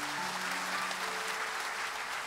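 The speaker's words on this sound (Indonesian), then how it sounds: "Tepuk tangan." Audience applause at a police staff college graduation ceremony, a continuous even roar of many people clapping in a large hall, with a voice briefly heard at the start.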